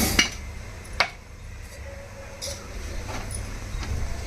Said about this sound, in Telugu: ఇదిగోండి కళాయి పెట్టానండి